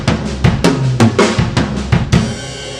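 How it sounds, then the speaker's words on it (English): Linear drum fill in a five-over-three pattern with a left-hand accent on the "and" of one, played as a string of separate close drum and cymbal hits with a crash ringing out at the end, no voice. "With the accent in on the left hand on the of 1, it sounds like this."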